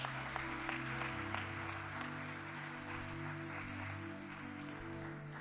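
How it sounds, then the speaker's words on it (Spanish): A church congregation claps steadily throughout, a dense sustained wash of applause over a low sustained musical hum. "dale ese aplauso fuerte para Dios"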